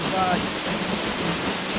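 Split Rock Falls on Vancouver Island, a waterfall pouring with a steady, loud broadband rush that stays constant throughout, with no voices over it.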